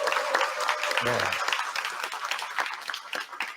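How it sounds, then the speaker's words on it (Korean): An audience at an education office administrators' meeting claps to welcome 31 newly appointed education officers and researchers, a moderately loud burst of applause with a brief spoken word near the start. "따뜻한 박수로 우리 모두 환영해 주시길 바랍니다"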